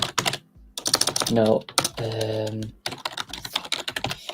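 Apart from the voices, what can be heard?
typing hard on a computer keyboard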